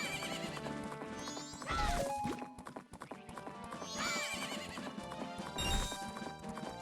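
Horse in an Ocarina of Time randomizer game, galloping with clip-clop hooves and letting out two whinnying neighs, loud and close, over game music.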